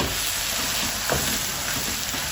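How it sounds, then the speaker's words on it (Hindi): Stuffed karela filling being mixed in a pan over a steady frying sizzle, with a soft scrape of stirring around the middle and no talk. "इसको अच्छी तरह मिक्स करेंगे।"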